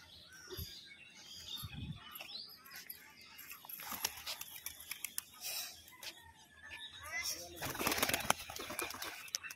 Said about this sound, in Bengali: এখানে কিছু উড়া পায়রা রয়েছে